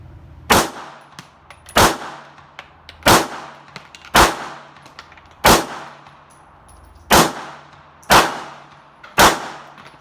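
Eight sharp pistol shots from a Beretta Cheetah 85BB fired at a steady, fairly quick pace about a second apart, each a loud crack with a short ringing decay, heard alone outdoors.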